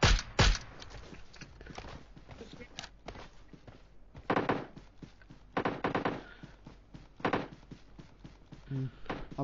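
Gunfire in a mobile shooting game, scattered sharp bursts and single shots at uneven intervals, some loud and close, others fainter, mixed with brief clicks and thuds.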